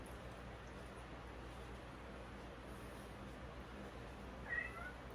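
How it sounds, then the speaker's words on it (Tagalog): A house cat gives a single short meow partway through, faint and somewhat distant over a quiet, low steady background hum. "Ang pusa po namin yun."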